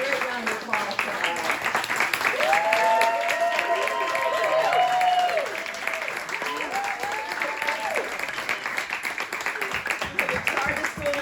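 Sustained applause from an audience at a poetry cafe event, dense clapping filling the room at steady loudness, with a speaker's voice carrying over it at times.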